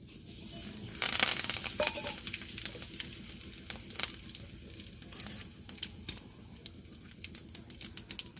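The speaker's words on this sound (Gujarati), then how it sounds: "તેલ ગરમ થઈ જાય તો તેમાં જીરો એડ કરી દેશું, રાઈ, લાલ મરચાં અને મીઠા લીમડાના પાન।" Cumin, mustard seeds, red chillies and curry leaves sizzle in hot oil for a Gujarati chana batata shaak, a steady close crackling hiss that flares loudly as the spices drop in, then keeps popping with sharp spits.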